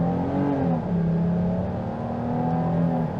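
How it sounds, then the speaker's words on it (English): A 2022 Chrysler Pacifica Limited minivan engine accelerating, heard from inside as a steady, rising engine drone and road hum that holds for several seconds, with no talking. "Check out the acceleration."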